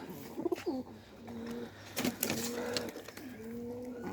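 Pigeons in a loft coo in a steady series of soft, throaty calls, several overlapping rises and falls close by, with no voices over them.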